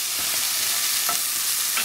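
Carrots and potatoes frying in a sofrito, a loud dense sizzle with a few soft stirring scrapes, steady and close throughout the short stretch.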